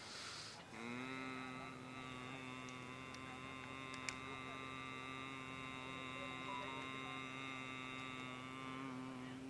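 A soldier on a cold, snowy mountain practices Bhramari pranayama, sustaining a low, nasal humming M of Om. The tone begins after a brief breath and then holds steady and even for several seconds, quiet and alone.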